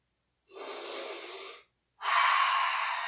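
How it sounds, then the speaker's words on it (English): Two deep breaths taken while holding a squat, a long airy inhale then a strong exhale, close and clear with a short pause between and no talk. "We're going to take a few deep breaths."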